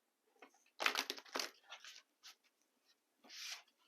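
Tarot cards from a gilded deck shuffled by hand, giving bursts of papery riffling and crisp slapping, a dense cluster followed by scattered softer flicks and one final riffle, close and fairly quiet with no talk.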